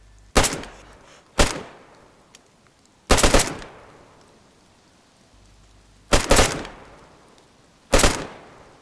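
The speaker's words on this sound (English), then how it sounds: "That was a big explosion." Sharp, loud blasts from a shooter video game: five separate booming bursts, each fading out over about a second, spaced irregularly across the stretch with quiet gaps between them and no talk.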